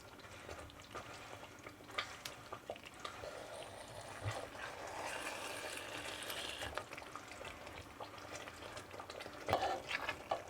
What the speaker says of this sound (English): I'm going to gently drop my mince in.